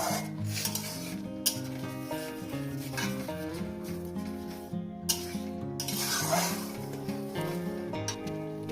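A spice mixture sautéing in about two spoons of ghee in a pan for a vegetarian dish with coconut, heard as a steady close sizzle with continuous scraping and stirring of a utensil against the pan throughout.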